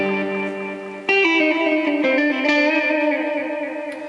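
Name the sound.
Boss DD-20 Giga Delay tape echo mode, head 1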